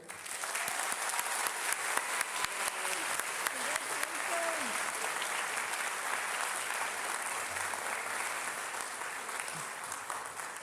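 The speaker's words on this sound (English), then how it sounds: "I wish you'd give a very joyous round of applause for Jacob Dalliger." Audience at a high school orchestra senior concert applauds, steady sustained clapping from a crowd in a hall, moderately distant and even throughout, with no talk over it.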